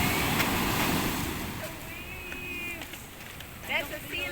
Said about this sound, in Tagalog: Oh, look at the wave!